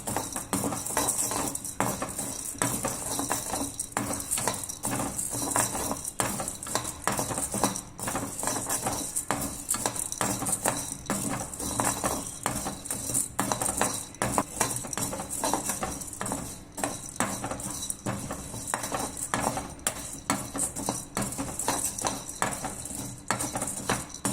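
Chana dal being dry-roasted in a pan with steady stirring, a continuous scraping and pattering rattle of lentils against metal with small clinks, close and even, with no voices.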